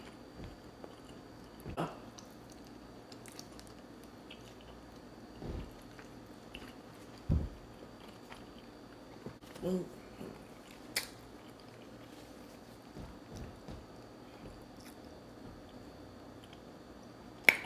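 Leftover food being chewed during a mukbang, heard as faint, sparse wet bites and mouth clicks scattered over a quiet background, with a few louder snaps and no talking.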